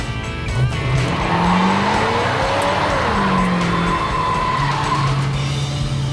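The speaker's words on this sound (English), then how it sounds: "Good solid burnout." A 1969 Dodge Charger Daytona does a burnout, its tires squealing loudly and continuously over a roaring engine, with the pitch wavering up and down throughout.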